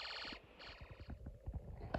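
A Snap Circuits Extreme SC-750 integrated circuit speaker sounds an electronic alarm: a wavering, pulsing buzzy tone close and alone, breaking up and fading midway before a sharp loud burst at the end.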